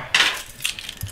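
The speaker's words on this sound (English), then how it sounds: "my house keys and all the other keys" A bunch of house keys jangles close by in two quick bright metallic bursts, alone with no talking.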